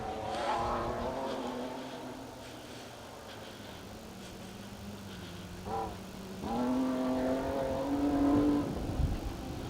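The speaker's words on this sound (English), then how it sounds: "Ashley and Jake Rutledge there in the very smart, very bright, eye-catching liveried BMW" A BMW rally car driven by Ashley and Jake Rutledge on a special stage of the Plains Rally, its engine revving and shifting through gears at a moderate distance, rising to a louder, higher pull near the end.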